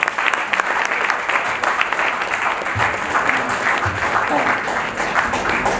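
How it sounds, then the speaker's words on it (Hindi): An audience at a poets' award ceremony at Gaur City gives sustained, dense applause to welcome a speaker, a steady close wash of many hands clapping throughout. "एक बार जोरदार तालियों के साथ उनका भी स्वागत करें"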